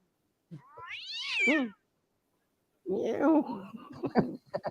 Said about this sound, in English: I'm just stroking my cat